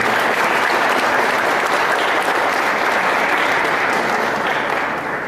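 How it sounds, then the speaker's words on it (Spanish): Steady, dense audience applause honoring a magistrate at a legal conference on judicial amparo, sustained at full strength for about five seconds before easing slightly at the end. "Aplausos, por favor, para la magistrada"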